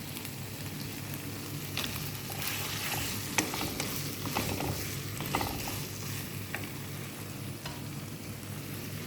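Corn and carrots stir-fried with vegetables in a pan for a sauce macaroni dish, giving a steady close sizzle with scattered scraping and clinking of a utensil against the pan, no talking.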